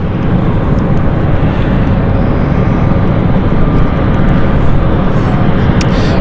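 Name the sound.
airplane at London City Airport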